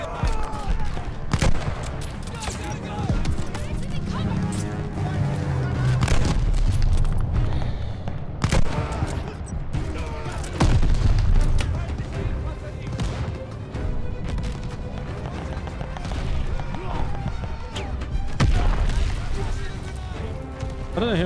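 Call of Duty Vanguard gameplay with dense gunfire, sharp repeated shots, automatic bursts and booming explosions, loud and nearly nonstop, while a player talks over the action.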